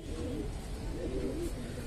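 A Bangladeshi racing pigeon gives a soft, low, rolling coo close by, quiet against a steady background hum, with no one speaking.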